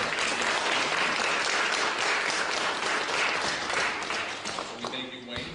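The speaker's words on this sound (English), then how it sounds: "Let's give a round of applause." Steady applause from a congregation fills Holy Cross Lutheran Church in Ste. Genevieve, Missouri, loud and sustained, then tapers off with a few scattered claps at the end.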